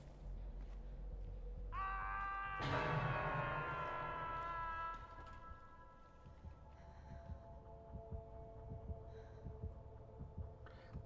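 Dead by Daylight game audio: a sustained tonal swell and chime ring out and slowly fade, then a low rhythmic throbbing heartbeat pulses steadily underneath for the rest, fairly quiet and without talking.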